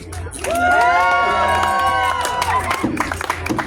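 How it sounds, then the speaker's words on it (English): At a Renaissance faire stage show, an audience bursts into cheering, whooping and applause, a loud swell of voices that peaks and then thins to scattered claps. "That means applause."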